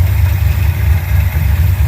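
Car engine fitted with an Edelbrock 1405 carburetor idling fully warmed up with the choke open, a steady low rumble close by that holds even throughout with no voices.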